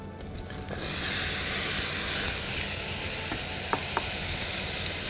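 Apples drop into a hot pan and burst into a loud, steady sizzle that swells after a brief clatter at the start, then holds a bright, continuous hiss with a few small pops close by.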